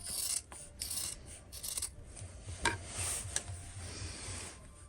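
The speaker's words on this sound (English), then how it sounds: "I'm going to trim just a bit here, because I don't want it too thick." Fabric is trimmed with scissors for a festive plate or pie cover, heard up close as a few raspy cutting and rubbing strokes, alone and without talk.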